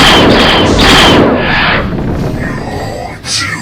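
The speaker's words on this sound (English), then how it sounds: "Looks like they're shooting straight through their own fighters." Space fighters trade rapid laser fire in the Wing Commander game, loud dense bursts and booming blasts piling up close, with a voice speaking over the barrage.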